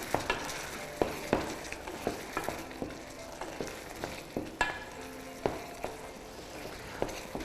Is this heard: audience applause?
no